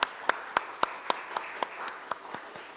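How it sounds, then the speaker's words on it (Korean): A small church congregation claps in a sparse, evenly spaced rhythm during a Sunday worship service, each clap distinct and moderately near, growing slightly softer toward the end. "박수로 같이 한번 박수하겠습니다."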